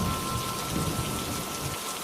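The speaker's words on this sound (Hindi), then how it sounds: "लगातार कई घंटों तक बारिश होती रही और बारिश के साथ साथ तूफान भी चलता रहा" Heavy rain pouring down during a thunderstorm, a dense steady hiss with low rumbling underneath, continuous and close.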